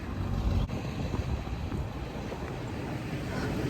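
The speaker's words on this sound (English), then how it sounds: "A big ass stinky truck idling is anathema to fresh air." Big truck engine idling outdoors in freezing cold air, a steady low rumble blended with wind buffeting the microphone, no voices.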